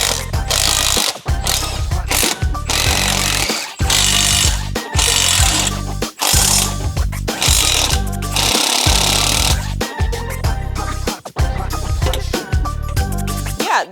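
Impact wrench hammering in repeated loud bursts with brief pauses, removing a rusty exhaust manifold from a right-hand-drive Mazda Miata during a turbo build.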